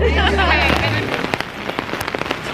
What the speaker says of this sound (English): It rains every single weekend in New York.